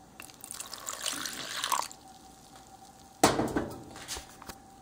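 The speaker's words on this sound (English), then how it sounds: "Add some water into the flour mixture." Water pours into a flour mixture in two bursts, a steady splashing stream followed by a sharper, louder pour after a short pause, with no talking.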